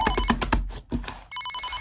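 A mobile phone rings from inside a closed refrigerator, giving a fast pulsed ringing pattern that shifts into a steadier tone partway through, fairly loud with no voices.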